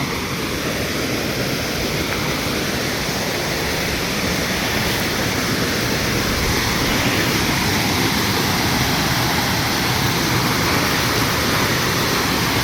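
A dense, continuous roar of falling water from a waterfall at Erumai Savadi private falls near Courtallam, Tenkasi, steady and loud without pause.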